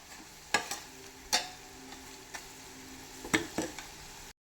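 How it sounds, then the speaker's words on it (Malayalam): Fish pickle mixture frying in a pan is stirred, giving a quiet background sizzle broken by a few sharp scraping clinks of the spoon against the pan, with no talking. "ഇതായി കഴിയുമ്പോൾ നല്ലവണ്ണം ഇളക്കുക."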